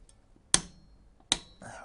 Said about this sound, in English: Grab my torque wrench.